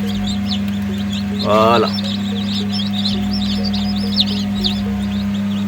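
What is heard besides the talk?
chicks hatching in an incubator, cheeping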